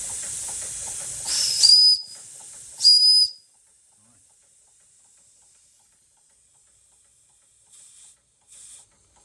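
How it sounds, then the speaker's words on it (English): Two short, shrill whistle blasts from a restored Doll 364 model steam engine over a hissing background, then near silence with faint distant hisses toward the end. "See if the whistle works."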